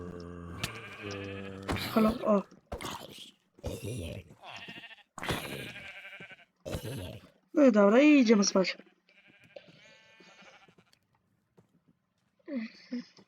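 Sheep in a Minecraft game give repeated short digital bleats mixed in with someone talking, close and clear, some bleats standing alone between his phrases.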